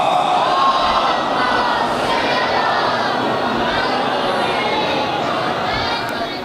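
A mosque or majlis congregation at a Shia religious gathering loudly chants salawat together in response, a dense continuous roar of many voices that holds steady throughout.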